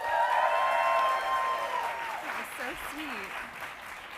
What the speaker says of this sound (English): I would like to give a big release day round of applause.